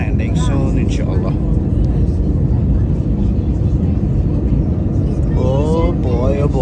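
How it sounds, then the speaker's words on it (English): A passenger plane on the Gilgit to Skardu flight drones steadily in the cabin as it prepares to land, a loud constant engine roar with people talking over it. "Plane is ready to make its landing soon"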